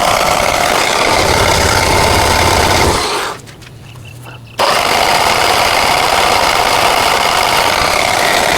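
A cold Generac generator engine runs with a loud, steady, rough mechanical drone. It cuts out abruptly for about a second and a half, then resumes at full volume.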